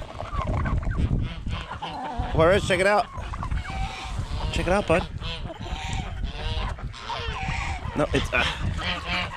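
A flock of chickens clucks and squawks loudly up close, its busy calls overlapping with someone talking to a child.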